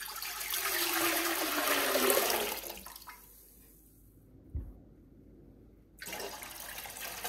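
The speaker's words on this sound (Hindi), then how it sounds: "दूसरा जग पानी भी डाल लिया है।" Water is poured from a jug into a cooking pot while making beef yakhni pulao. It gives a steady, close splashing pour for about three seconds, then trails off into near silence.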